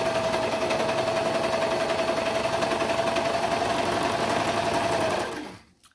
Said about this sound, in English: obviously when the serger is going off, everything shakes